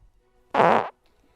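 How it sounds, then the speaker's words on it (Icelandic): A comic fart sound effect from a children's cartoon blares once, a single loud buzzy blast lasting under half a second amid near silence. "Aftur prumpuhljóð."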